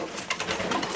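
Racing pigeons coo and call inside a loft during the breeding season, several birds overlapping in a steady, close, fairly loud murmur that fills the whole second.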